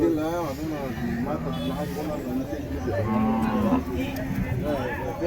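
Cattle at a busy cattle market in Orappam moo loudly and repeatedly, several long lowing calls up close, with people talking over a constant crowd murmur.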